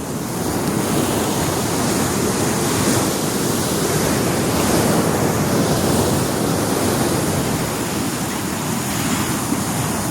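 Rough sea during coastal erosion, waves crashing and roaring continuously on the shore, a loud, dense wash of surf with no voices.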